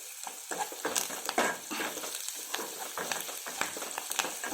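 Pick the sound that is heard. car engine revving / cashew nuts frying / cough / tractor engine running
cashew nuts frying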